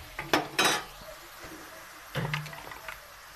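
Potatoes drop into a pan with onion, turmeric and salt, followed by a couple of sharp metallic clanks and scraping stirs, close and fairly quiet with pauses between.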